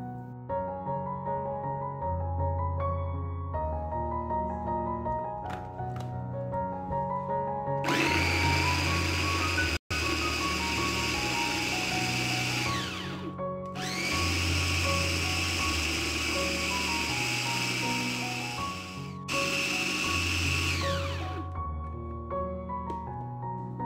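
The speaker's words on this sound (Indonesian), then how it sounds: "Untuk menghaluskan kentangnya, saya gunakan chopper CH200 dari Mitochiba." A Mitochiba CH200 electric chopper mashing hot boiled potatoes whirs in three bursts of a few seconds each, its motor whine rising and cutting off, over soft background music.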